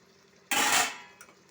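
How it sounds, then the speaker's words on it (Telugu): A spoon scrapes and clatters in a pot, mixing potatoes, peas and beans for a vegetable dum biryani, with one loud stir followed by a lighter clink, close up in a home kitchen. "అన్నీ ఒకసారి కలిపేసుకుందాము."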